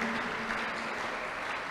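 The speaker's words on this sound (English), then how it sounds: "Let's clap unto God and appreciate Him" A congregation at the 2024 Mgbidi crusade claps in a steady, dense roar of many hands, heard from a distance and held at an even level, with faint voices mixed into the crowd noise.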